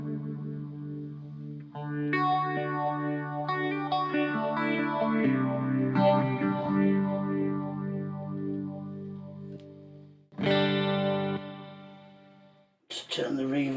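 Guitar played through a BOSS ME-50 multi-effects unit with phaser engaged, sustained chords with sweeping swirling modulation, ringing out and decaying between strums, alone without talk.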